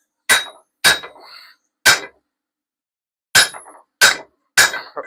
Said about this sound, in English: I'm gonna try this hammer instead.